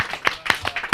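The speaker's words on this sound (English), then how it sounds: "Clap it up for yourself." A small audience clapping on a hip-hop talk show, a few sharp, separate claps spaced irregularly and close by, brief and loud.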